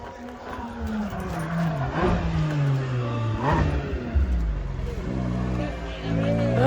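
Porsche Cayman GT4 RS on the Nürburgring, engine howling as it approaches and passes, pitch rising and falling through gear shifts, then other cars following, with trackside voices faintly underneath.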